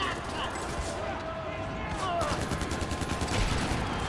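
SMG fire in Far Cry 4, rapid bursts of automatic gunshots under a continuous busy game soundscape, growing denser and more rhythmic toward the end.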